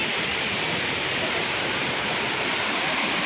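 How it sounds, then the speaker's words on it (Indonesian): Steady, dense roar of the Tanjung Sakti waterfall at Pagar Alam, close and loud, a continuous broadband rush of falling water with no breaks. "Ini air terjun Tanjung Sakti."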